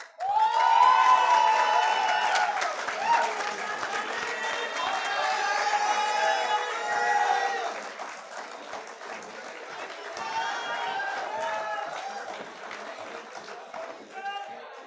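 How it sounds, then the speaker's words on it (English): An audience at a college event applauds the participants of a badminton match. The clapping is loud at first and then thins into scattered claps with crowd murmur, while an announcer speaks over part of it. "A big round of applause for all the participants who gave their best."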